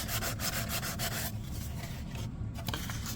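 A primer-coated Predator biomask is sanded by hand with 400 grit sandpaper, giving close, rhythmic back-and-forth rasping strokes that ease into lighter rubbing partway through.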